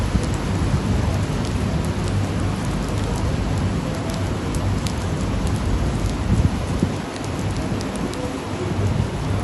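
Steady, loud rain falls at an India vs Nepal Asia Cup cricket match, a dense continuous hiss of drops on surfaces throughout, with a low rumble underneath and no voices.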